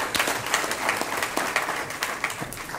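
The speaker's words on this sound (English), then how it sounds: "Can we give her a round of applause for a great job" Steady audience applause fills a legislative listening session room, dense even clapping with no voices, moderately loud throughout.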